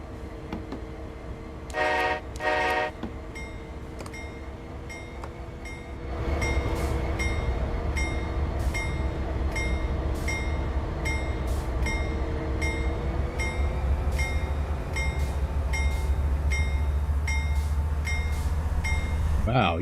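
A locomotive in Train Sim World throttles up through the notches, its diesel drone stepping louder and holding steady, after two short horn toots near the start.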